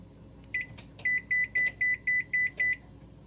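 A string of seven short electronic beeps in a steady rhythm from a GE range's oven control panel, close and clear over a quiet background.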